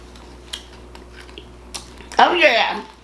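Crunchy animal crackers chewed close to the mic during an eating session, a quiet start with faint clicks, then a loud burst of crisp crunching near the end.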